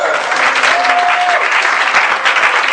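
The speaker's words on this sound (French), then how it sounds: "Acclamons le Seigneur." A church congregation applauds together in steady, dense clapping that fills the whole stretch at an even loudness, with a faint voice briefly audible beneath it.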